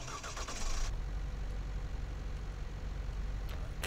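A W906 van engine cranks and catches in the video game Fernbus Coach Simulator, a brief starter whir giving way to a steady, low idle that continues alone to the end.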